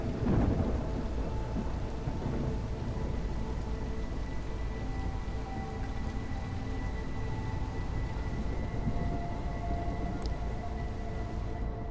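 A sustained rainstorm with a heavy opening thunder crack drives through the Detective video game's rainy setting, a dense, loud, steady downpour that rolls on alone for about twelve seconds.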